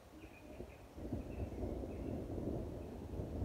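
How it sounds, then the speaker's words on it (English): Thunder during rain at an outdoor camp, a low distant rumble rolling in softly under wind and patter, with faint birdsong above. "that's a bit of thunder"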